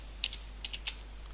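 Keys clatter on a computer keyboard while entering a total in a Microsoft Excel sheet, a few quick, crisp taps in small clusters over a faint steady hum.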